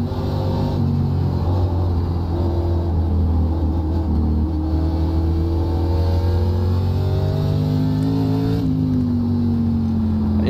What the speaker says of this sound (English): I wonder if my engine can blow up with that downshifting stuff